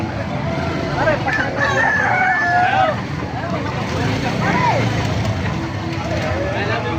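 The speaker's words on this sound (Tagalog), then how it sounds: "Ang ganda ng mga manok." Gamefowl roosters, Lemon Sweater and Golden Boy breeds, crow a few times at moderate distance amid steady outdoor noise and chatter from people nearby at a market in Calumpit.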